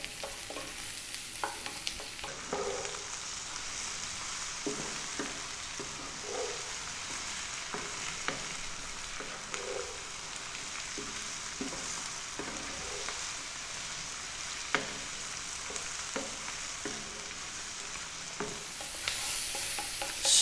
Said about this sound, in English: We're now going to drop in the mushrooms, which I just sliced.